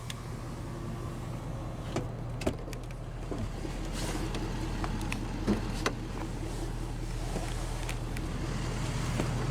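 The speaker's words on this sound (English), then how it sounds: "Driver's window is automatic down." A 2011 Ford F-350 Super Duty Lariat Crew Cab's automatic driver's power window hums down steadily over a low engine idle, faint with a few small clicks and knocks.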